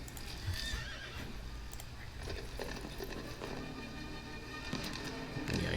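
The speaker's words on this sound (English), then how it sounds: "They're very fast horses." Horses galloping and neighing in a Napoleonic-era battle game at Bautzen, rapid hoofbeats drumming continuously with several whinnies rising over them, moderately loud with no talk.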